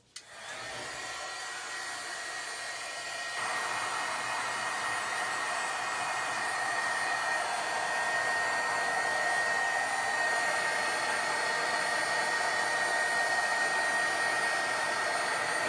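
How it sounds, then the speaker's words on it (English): Heat gun blowing on wet paint on a painted lace folio journal, a steady close whirring roar that switches on, rises to a higher setting after a few seconds and runs continuously. "let me hit that with a heat gun"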